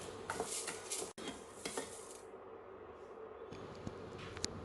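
Horse gram dry roasting in a pan, with a spoon scraping and stirring the seeds against the metal. The rattling and scraping come close and fairly loud, with a faint sizzle beneath and no talk.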